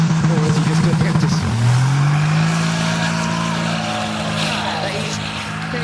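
A drift-spec Bentley rolls through burnouts at the Goodwood Festival of Speed, its engine droning loud and close with a rising pitch as it pulls away, tyre noise blending in, and a voice heard over it.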